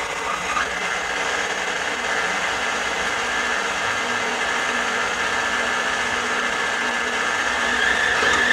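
An electric stand mixer kneads Danish pastry dough with a steady, continuous motor whir and churning that holds even throughout, growing slightly louder toward the end, with no talking.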